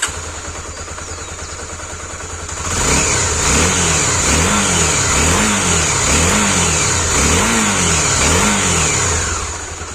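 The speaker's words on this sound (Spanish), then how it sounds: "voy a poner en marcha cada una de ellas y vamos a comparar cómo aceleran en vacío" A Honda Tornado XR 250 motorcycle idles before its engine revs in repeated, evenly spaced throttle blips. The blips rise and fall in a rhythmic pattern and sound close and loud.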